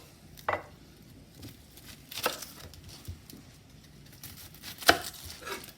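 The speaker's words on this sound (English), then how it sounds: "While it's cooking, we cut up some onion." A knife chopping an onion on a board, a few soft, sparse cuts spaced apart, faint and close in a quiet kitchen.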